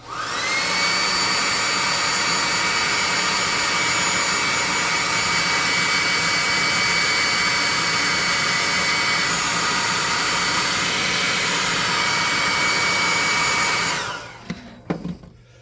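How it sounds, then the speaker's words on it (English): A heat gun blows steadily and loudly at close range for about fourteen seconds with a constant whine and rush of air, then cuts off abruptly, leaving a few faint clicks. "This is the +2 hot air gun of burning."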